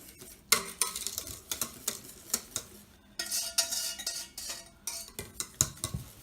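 A spoon or whisk mixes pastel de nata filling ingredients in a bowl, with rapid clinking and scraping strokes, close and continuous, with no talk.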